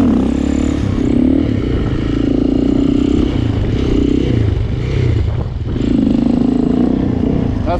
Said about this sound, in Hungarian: Azt hallhatjátok, hogy a motor visszaesik alapjáratról